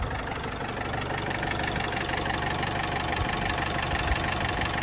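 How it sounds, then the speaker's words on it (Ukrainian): A 2014 Renault Trafic 2.0 diesel van engine (Euro 5, electromagnetic injectors) idles steadily and evenly, a close, continuous low rumble with a faint rhythmic clatter. "Слухаємо роботу Євро 5 мотора з звичайними електромагнітними курсинками"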